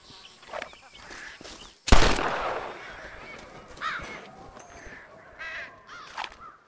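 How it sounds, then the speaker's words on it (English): Birds flushed into the air and fired upon in the Mexico setting of Red Dead Redemption: a sharp loud gunshot bursts out near the start, followed by scattered cawing bird calls and further fainter shots over background ambience. "I'm gonna scare up some birds. Let's see if you can take down more than one at a time."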